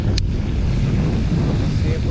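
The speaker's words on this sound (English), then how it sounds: "Oh yeah, getting windy." Gusty wind buffets the microphone during ultralight bass fishing, producing a steady, loud low rumble and hiss that fills the whole stretch without a break.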